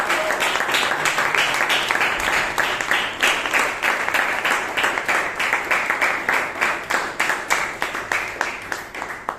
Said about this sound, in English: Can we give that a huge round of applause?